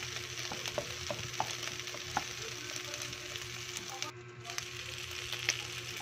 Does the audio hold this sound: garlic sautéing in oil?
yes